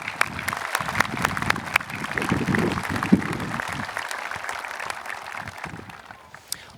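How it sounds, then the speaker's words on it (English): A graduation crowd at Crystal Lake South High School claps in a moderate, steady round of applause that is somewhat distant and thins toward the end, with scattered sharper claps standing out. "Let's have a round of applause for everyone in this group."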